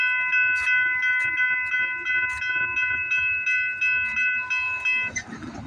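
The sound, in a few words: train going by on the Alton subdivision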